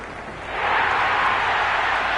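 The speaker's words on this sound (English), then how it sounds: "the crowd have joined the party. It's pretty noisy at the ground" A large cricket crowd at a PSL match in Lahore swells into a loud, sustained roar of cheering that holds steady throughout, with no distinct voices standing out.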